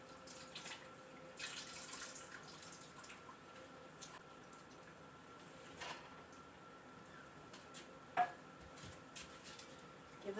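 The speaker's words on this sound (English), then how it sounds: "I like to give my mushrooms just a quick rinse." Tap water runs steadily into a sink as mushrooms are rinsed for lasagna, with a soft continuous hiss and a few faint clinks, heard quietly and close, with no talking.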